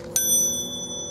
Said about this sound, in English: So we heard our bell go.